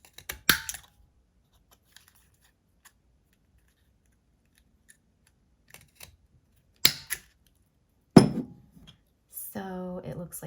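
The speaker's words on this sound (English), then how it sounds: "I think I like to just corner round mine" A corner rounder punch trims the corners of paper file folder tabs for a mini album. A few sharp, isolated punch clicks are spread across near silence, and a voice speaks briefly at the end.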